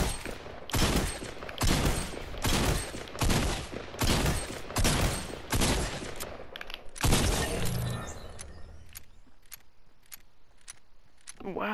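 Tactical shotgun repeatedly fired in Fortnite, about eight loud, sharp blasts at a fairly even pace, followed by a few fainter shots and lingering game ambience.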